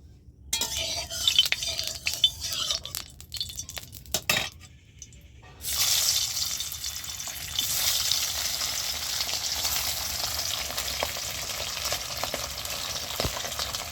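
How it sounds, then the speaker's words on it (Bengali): Turmeric-coated fish laid into hot oil in a home kitchen: a few clinks and handling sounds first, then a sudden loud, steady sizzle of frying that continues to the end. "তেলটাও গরম হয়ে গেছে আমার, তো আমি এবারে মাছটা ভাজতে তুলে দিচ্ছি"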